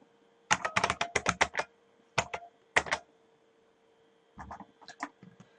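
Rapid bursts of computer keyboard typing, close and crisp, come in two quick flurries, then a few isolated keystrokes, a pause, and a softer final cluster of taps.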